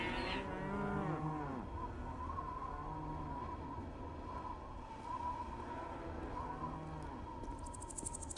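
Mad cows moo in Postal 2, several drawn-out lowing calls overlapping at moderate loudness against a steady game ambience, with no talk.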